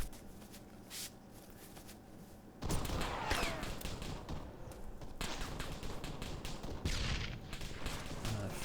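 Video game gunfire comes in rapid bursts and volleys of shots with tracer effects, loud and continuous after a quieter start.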